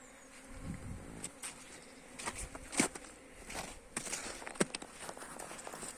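Honey bees buzz around a hive, a soft continuous drone with individual insects passing close now and then, a few faint knocks in the background.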